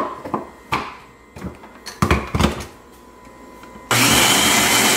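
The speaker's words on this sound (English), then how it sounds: "So now we're gonna go ahead and give it another blend." A kitchen blender churns healthy banana bread batter: scattered knocks and clatters give way to a sudden loud, steady motor whir that holds to the end.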